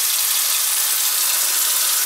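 Water rushes steadily out of an open household supply pipe being drained to relieve pressure while the old washing machine shutoff valves are swapped, a constant close hiss with no talking.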